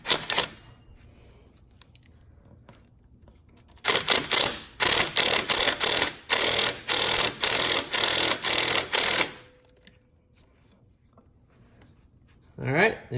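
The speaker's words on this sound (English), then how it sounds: "we're going to tighten this clamp to the turbo." Ratcheting and clicking while an intercooler hose clamp is tightened onto the turbo during a front-mount intercooler install on a Fiat 124 Spider Abarth, a dense run of sharp mechanical clicks lasting several seconds, with brief handling noises before and after.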